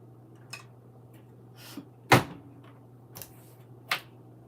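A door shuts with one sharp thud amid a few lighter clicks and bumps over a steady low hum, with no talking.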